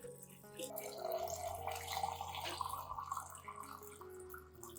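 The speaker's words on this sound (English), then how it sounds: "add 1 liter of clean water at room temperature to dilute the solution before use." Clean room-temperature water is poured steadily into a solution to dilute it, giving a continuous soft trickling and splashing that stays fairly quiet throughout.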